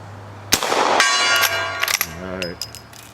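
Shots from an 1860 Henry rifle striking a steel gong: a sharp report followed by a bright ringing clang that hangs and decays, then a second fainter hit with a metallic ring.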